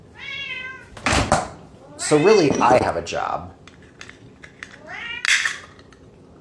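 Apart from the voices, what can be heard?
cat meowing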